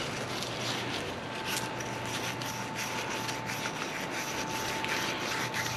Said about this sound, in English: So now we'll sand this guy off.